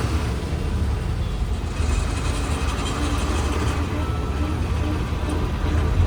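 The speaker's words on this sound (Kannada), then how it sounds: "ಮೆಟ್ರೋ ರೈಲ್ ಬರ್ತಾರೆ ನೋಡಿ ಸ್ನೇಹಿತರೆ" A continuous low rumble of a passing Bengaluru metro train fills the scene, steady and fairly loud throughout with no clear talking.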